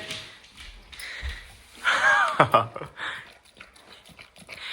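A dog pants and snorts eagerly over a bowl of fresh food, with quick breathy huffs and a louder burst of snuffling and whimpering in the middle, close to the listener.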